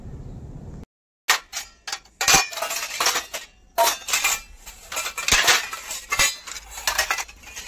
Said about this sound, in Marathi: आता मी एकात एक भांडे सर्व टाकते